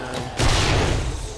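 Explosion in the survival game 7 Days To Die, set in a wasteland biome: a sudden loud blast with a low rumbling body that holds steady for about a second, heard over quieter game ambience.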